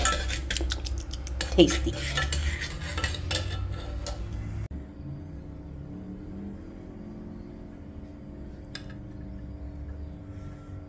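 Kitchen clatter from a pot on the stove where something is melting, with clinks of cutlery and cookware loud at first, then a quieter simmering hiss after a sudden drop, with a brief spoken word.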